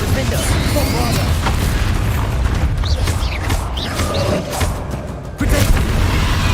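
Bombarda spell explosions and combat effects in Hogwarts Legacy make dense, loud, continuous rumbling with booming hits and mechanical creaks, and a sharp surge near the end.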